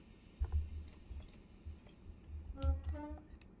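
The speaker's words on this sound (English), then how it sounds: "Engine stop, driver's buzzer, that one." A driver's buzzer in the Train Sim World 3 cab on the Midland Main Line sounds as a steady electronic beep tone of about a second, followed by a second shorter beep, over low rumbling cab noise and a few clicks.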